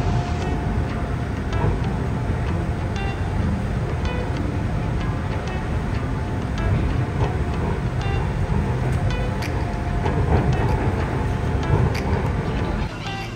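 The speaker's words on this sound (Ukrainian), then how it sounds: "Ось так виглядають ці суперкруті і модні у них поїзда." A driverless elevated sky train runs through Bangkok, with a constant low rumble and hum of the carriage and faint clicks and rattles throughout, close and steady.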